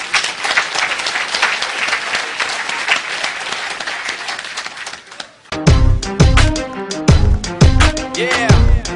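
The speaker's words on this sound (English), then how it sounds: "Give yourselves a round of applause." A memory-show audience bursts into sustained, loud applause that dense clapping fills for about five seconds, then gives way abruptly to upbeat music.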